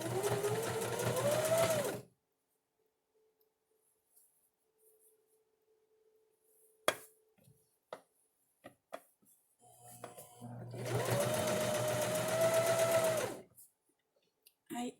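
A sewing machine stretch-stitches a sleeve into knit fabric in two loud, close bursts of fast whirring, separated by a quiet gap holding a faint tone, small handling clicks and brief fabric rustles.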